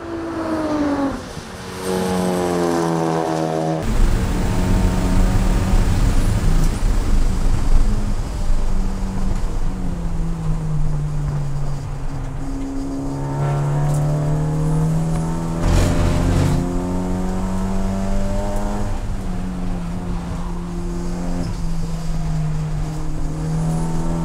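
A Honda Civic Type R CNF-R race car engine drones loud and close at Suzuka during a five-hour endurance race, revving up through gears with rising pitch, briefly easing, then climbing again in long sustained pulls.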